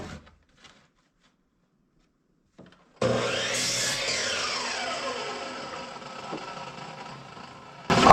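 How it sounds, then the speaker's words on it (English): Handsaw cutting a cedar fence picket into 7-inch sections: after a quiet stretch, a steady, close rasping saw stroke runs continuously for about five seconds, with a brief knock at the end. "I cut sections of 7 inches"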